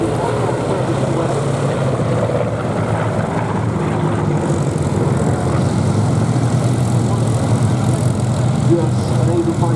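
Propeller aircraft in a trio formation flying past at the Duxford airshow, a steady broad engine drone that holds at an even, fairly loud level throughout, with the distant ones far off and no clear rise or fade.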